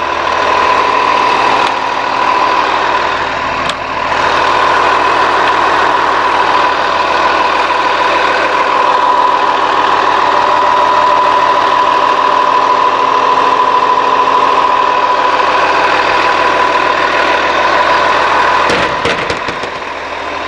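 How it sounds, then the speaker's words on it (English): A Cummins ISC diesel in the rear of a 2009 Blue Bird All American pusher bus idles loudly and steadily for about twenty seconds, a constant mechanical clatter with a faint whine, close up and without talk. "Take a look at that Cummins ISC here."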